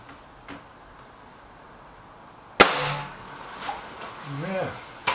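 A suppressed shot from a Stoeger RX20 S2 air rifle: one sharp, loud crack with a brief decaying tail, followed by faint small knocks and a short voice-like sound near the end.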